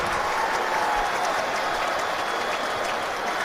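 Football stadium crowd at an Indianapolis Colts home game applauding in a broad, continuous roar of clapping and cheering, loud and steady throughout.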